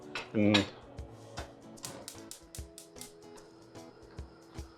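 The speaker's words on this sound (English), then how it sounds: "I'm just going to put a lid on the pot" A metal lid clanks onto a cooking pot of boiling wild rice, followed by a few lighter clinks and taps of cookware nearby.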